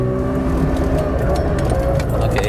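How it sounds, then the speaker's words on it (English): A Mazda RX7 engine bogging at full throttle and refusing to rev past about 4,000 rpm, a loud steady drone with a few faint tonal lines holding flat and unchanging throughout. "Okay, it's bogging down. Yeah, so at full throttle, it won't go over 4 grand."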